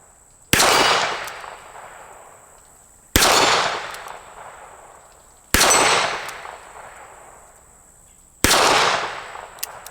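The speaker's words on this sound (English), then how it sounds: "start by shooting the 38 Special" A Smith and Wesson Model 60 snub-nose revolver firing .38 Special rounds outdoors at targets, four sharp loud shots spaced about two to three seconds apart, each followed by a decaying echo.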